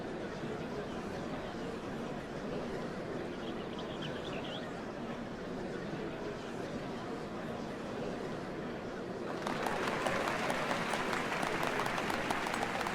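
A game crowd in Final Fantasy XIV breaking into applause, soft ambient murmur first and then a sudden swell of dense clapping that continues to the end.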